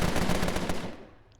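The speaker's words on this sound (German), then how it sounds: "Feuerstoß." A short, close burst of automatic gunfire in the gangster strategy game Empire of Sin, rapid rattling shots for about a second and then a quick decaying tail, with no voices.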